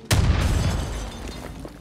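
A single sudden blast from an explosion in the shooter game Far Cry 5 hits near and loud, then a rumbling roar tails off over about a second and a half.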